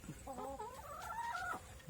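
Laying hens cluck on a farm, a close, drawn-out series of warbling clucks and calls with faint background noise.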